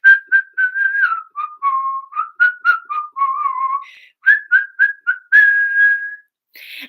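A clear, melodic human whistle carrying a jaunty tune in short phrases, close and loud with brief pauses between notes, heard alone without talking.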